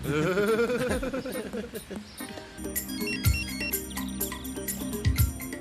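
A phone rings with a melodic electronic ringtone, its tones repeating over music and background sound.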